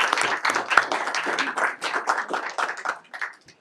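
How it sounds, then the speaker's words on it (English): A school board meeting audience applauds the Board of Education, a fairly close run of clapping mixed with a few voices, lasting a few seconds and tapering off. "give this awesome Board of Education a round of applause"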